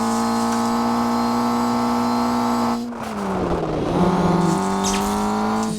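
Car engine in the Rally Fury racing video game, a steady loud drone with layered harmonics that dips in pitch near the middle, then climbs again as the car accelerates, with no voices.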